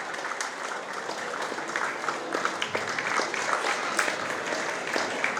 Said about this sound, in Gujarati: જોરદાર તાળીઓના ગડગડાટ સાથે વધાવો